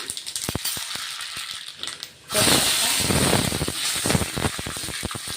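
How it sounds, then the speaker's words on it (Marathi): Mustard seeds spluttering in hot oil for tempering: sharp crackles at first, then a loud dense hiss and popping sizzle that keeps going close by. "आता आपण फोडणी देऊन घेतोय. बघा तेल गरम झालेलं आहे. मोहरी"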